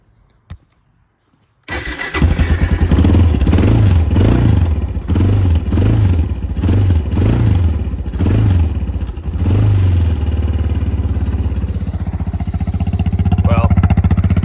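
A cold Suzuki DR650 motorcycle fitted with a GSXR muffler and stock carburetor settings cranks and fires up with the choke on. It then settles into a loud, lumpy, pulsing high idle close by, with no talking.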